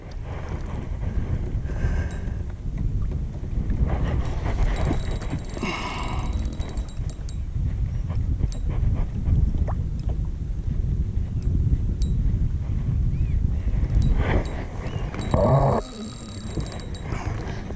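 Wind blowing over open water during kayak fishing, a constant low buffeting rumble on the microphone with occasional faint clicks and mechanical rattles.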